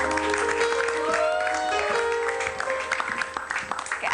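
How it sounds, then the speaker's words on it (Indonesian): A studio audience on an Indonesian talk show claps for a guest. The applause is moderately loud and mixed with background music, then thins out toward the end. "Tepuk tangan dulu buat Gus Wei"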